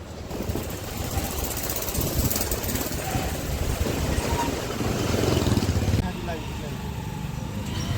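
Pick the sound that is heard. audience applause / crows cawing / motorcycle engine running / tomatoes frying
motorcycle engine running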